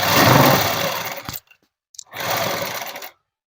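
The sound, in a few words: sewing machine stitching net cloth dress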